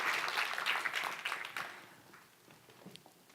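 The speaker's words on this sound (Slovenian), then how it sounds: "dajmo jih pozdraviti in nagraditi še z enim velikim aplavzom" Audience applause for a jury at the closing of a Slovenian competition round: a dense burst of clapping that starts loud and gradually thins and fades over a few seconds, with no voices on top.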